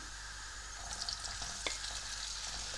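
Prawns frying in a pan of garlic and smoked chilli butter, a steady soft sizzle with a few brief clinks and stirring sounds, close but fairly quiet.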